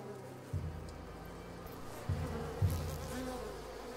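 A low insect buzz from bees in the video game A Plague Tale: Requiem hums steadily in the background, with a few soft thuds along the way.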